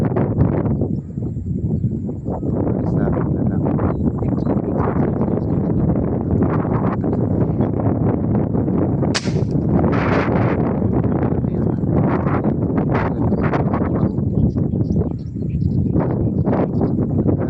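Strong wind buffets the microphone in a constant low roar, gusting throughout with faint rustling and no clear speech.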